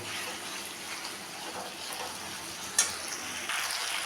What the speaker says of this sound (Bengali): দিয়ে এখন আমি এটাকে ভালো করে মিশিয়ে নেব।